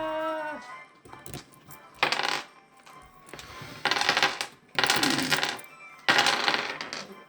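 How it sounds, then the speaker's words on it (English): Several dice are rolled for initiative in a tabletop game, with repeated clattering bursts of dice tumbling and rattling across a hard surface, four or five rolls close by, with faint talk at the start. "it just sounds like you're rolling like 5 dice of initiative right after you said that"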